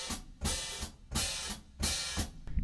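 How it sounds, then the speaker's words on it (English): A hi-hat is splashed by pressing straight down with the ball of the foot and then closed with the toes. The result is a repeating cycle of open, sizzling cymbal washes, each clamped shut with a chick, played steadily on their own. "I go straight up hitting with the ball of my foot"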